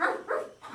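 A person on all fours imitates a dog, giving three short, close, voiced barking yelps in quick succession.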